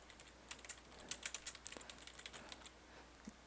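Someone types quickly on a computer keyboard while entering a message in code. A quiet run of close, crisp key clicks comes in an uneven rhythm, then slows toward the end.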